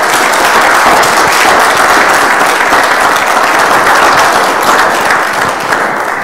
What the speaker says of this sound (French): est-ce qu'on peut applaudir encore pour le docteur Claudel